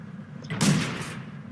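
An AMX 38 tank's cannon fires in World of Tanks, one sharp, fairly close report with a brief decaying tail over a low engine hum.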